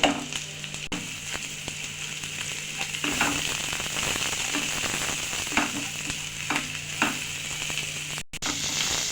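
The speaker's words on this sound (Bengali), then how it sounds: "ভালোভাবে রসুনের সঙ্গে একটু নেড়ে চেড়ে ভেজে নেব।" Chopped onion and garlic fry in oil in a pan, a constant close sizzle with soft periodic stirring scrapes and a low steady hum beneath, no talking.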